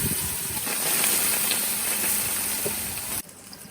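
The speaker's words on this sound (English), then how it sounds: "And get a little more water around the edges here." Water sizzles and hisses on a hot Blackstone griddle, a steady broad steamy hiss that runs loud and close for about three seconds before dropping off abruptly.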